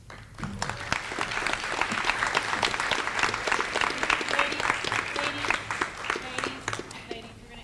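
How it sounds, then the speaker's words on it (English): Audience claps for student award recipients at a senior awards assembly, a sustained, fairly loud round of applause with some crowd murmur mixed in. "Give them another round of applause."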